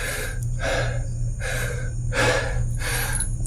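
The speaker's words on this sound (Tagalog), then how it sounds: "Dito ay napakahirap na ng paghinga natin." Heavy, laboured breathing up close inside a cave, with four or five long, rasping breaths in a slow, regular rhythm.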